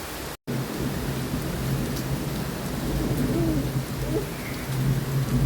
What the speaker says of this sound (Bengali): কি সুন্দর বৃষ্টি হচ্ছে